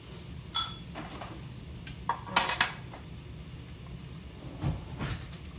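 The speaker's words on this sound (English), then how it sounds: "I'm gonna get silverware out, forks." Forks and other silverware clink as they are taken out in a home kitchen during dinner cooking, a few scattered light metallic rattles and taps spread over several seconds against a quiet background.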